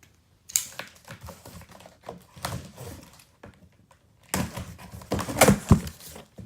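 A large DHL-shipped box holding Air Jordan 5 Retro NRG Fresh Prince sneakers is opened, with close cardboard tapping, rustling and tearing, a few sharp thumps and scrapes in irregular bursts, louder toward the end.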